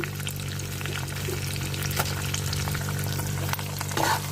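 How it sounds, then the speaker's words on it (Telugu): Tempering seasonings fry in hot oil in a pan with a close, steady crackling sizzle and faint stirring, and no voices. "ఇవి కూడా పోకులు వేగుతున్నాయి కదండి"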